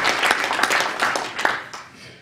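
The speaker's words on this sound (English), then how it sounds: "a round of applause for Tatiana" An audience applauds the translator Tatiana with a short burst of dense clapping that fades out over about two seconds.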